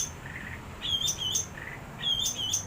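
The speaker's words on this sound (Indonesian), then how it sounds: "Tuh cucak ranting yang tadi yang gua bilang gacor guys." A cucak ranting songbird sings short, bright whistled chirps in a few quick bursts. The calls are clear and close over a quiet background, with no voices.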